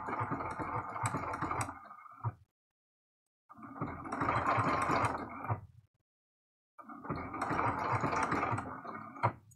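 A sewing machine stitches a quilted heart Valentine's card with a decorative stitch, running in three steady bursts of a few seconds each, separated by short pauses, close and fairly loud.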